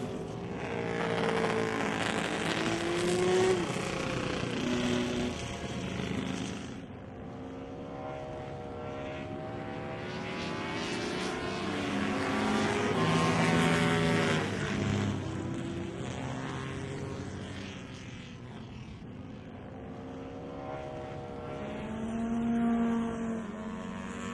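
Rob North Triumph racing motorcycles lapping at the Brooklands circuit, engines droning and rising and falling in pitch as they pass, a continuous moderate roar throughout with no one talking.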